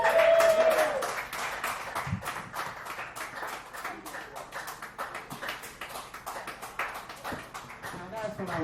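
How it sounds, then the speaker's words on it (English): A dive bar comedy audience applauds a comedian: a dense, steady wash of clapping that swells at the start and holds for several seconds. "round of applause for Grace Baliant"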